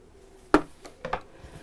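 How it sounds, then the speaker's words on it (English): Scissors snip through sewing thread while a fold-over tie purse is finished, giving one sharp close cut followed by two fainter snips a moment later. "Let's snip that away,"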